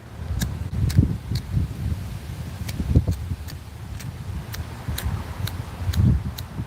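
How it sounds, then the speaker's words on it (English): Wind buffets and rumbles against the microphone in low gusts, with intermittent sharp ticks and rustling throughout. "Man, it's windy."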